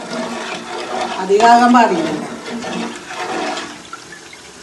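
Water pours into a pot of rice for chicken mandi, a gushing splash that swells in the middle of the pour and then eases off, with someone talking over it.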